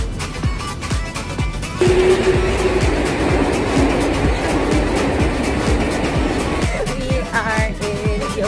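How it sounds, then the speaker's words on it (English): A pink train rolls past nearby in Yokohama, Japan, with rhythmic clacking wheels over a loud steady rumble that swells, holds, then shifts as it passes. "How cute was the pink train?"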